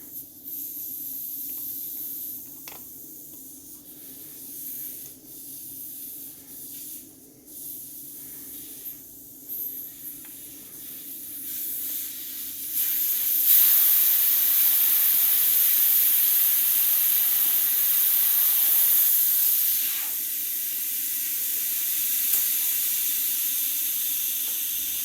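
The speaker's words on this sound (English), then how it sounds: "you start to undo it, and you'll hear the pressure coming out the tyre" Air hisses steadily out of a leaking tyre valve stem as the valve core is undone, a continuous close pressure release that grows noticeably louder and brighter about halfway through and then holds.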